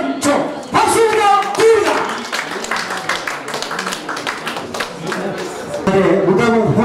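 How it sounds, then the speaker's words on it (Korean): Lively clapping from a gathered crowd at a Korean publicity ambassador appointment ceremony on a Seoul stage, sharp hand claps running for several seconds beneath a host talking and background chatter. "박수입니다"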